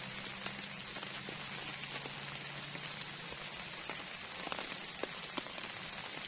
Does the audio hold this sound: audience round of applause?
no